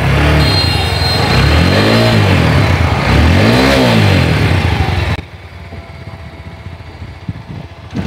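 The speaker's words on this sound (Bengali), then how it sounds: "বিকজ আশা করি আপনারা আমাদের বাইকের সাউন্ড কন্ডিশনটা শুনতে পেরেছেন" A motorcycle engine revs loudly in rising and falling sweeps for about five seconds, then settles to a quieter, steady idle.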